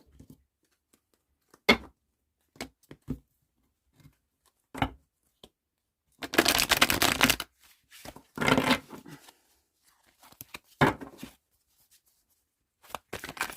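Playing cards shuffled by hand during a tarot-style reading, heard as several short riffling bursts with one longer flurry near the middle, close and fairly clear, separated by quiet pauses with no talking.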